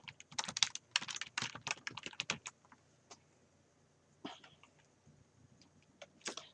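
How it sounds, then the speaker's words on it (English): Typing of a phrase on a computer keyboard in a quiet room while setting up a table of contents in Word 2013: a quick burst of clicking keystrokes, then a pause and a few scattered key presses, fairly close and faint. "So, Let's type in table of contents."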